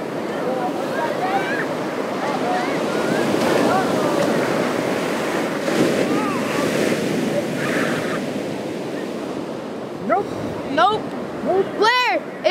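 Large shorebreak ocean waves crash and wash in a continuous loud surf roar with wind buffeting the microphone, while voices talk over it and shout briefly toward the end.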